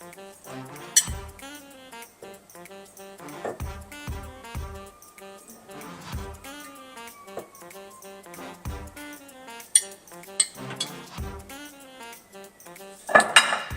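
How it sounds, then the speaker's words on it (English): Metal spoons clinking against dishes and cups while sauce is spooned into each cup for copycat Little Caesars crazy puffs, with scattered sharp close taps and rings at an uneven pace and a louder clatter near the end. "Now I'm going to spoon 1 tablespoon of sauce into each cup."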